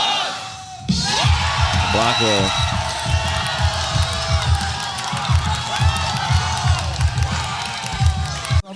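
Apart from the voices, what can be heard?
crowd cheering at a beatbox championship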